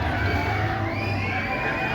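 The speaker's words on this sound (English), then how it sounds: "As the people are screaming." Crowd of people screaming and cheering at Busch Gardens Williamsburg amusement park during its Food and Wine festival, a steady dense wash of distant voices and shouts filling the whole stretch.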